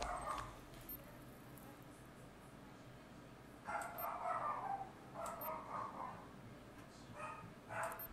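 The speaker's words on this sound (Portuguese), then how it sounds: "meu cachorro começou a latir" Pet dog barking indoors during a Rainbow Six Siege game session, a few muffled bursts of barks at a distance, fairly faint over steady background hiss and game ambience.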